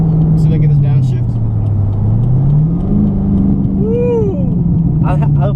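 C5 Corvette engine droning close by, its pitch dipping and then climbing as the car downshifts, with people talking over the steady rumble.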